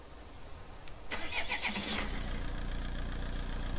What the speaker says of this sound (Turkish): İlk çalışması, marşı güzel.